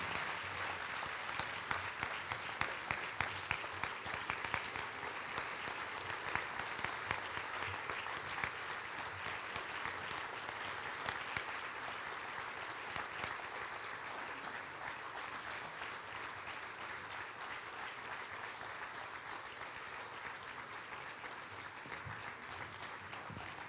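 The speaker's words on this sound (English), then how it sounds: "Ladies and gentlemen, you got to clap really hard because he'll hate it." A school district audience applauds a retiring official, sustained dense clapping from a crowd that carries on steadily for over twenty seconds, fairly distant and even, easing slightly toward the end.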